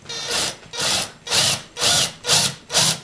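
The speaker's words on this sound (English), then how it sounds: "And just press down and drill." Hand sawing or drilling through wood on a kitchen backsplash job, six steady rhythmic strokes, close and fairly loud, with no talk.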